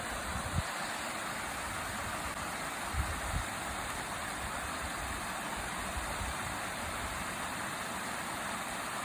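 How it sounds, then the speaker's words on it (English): A waterfall along the Appalachian Trail gives a steady, broadband rush of falling water that continues without break, with a few soft low thumps near the start. "always take a moment to enjoy the waterfalls"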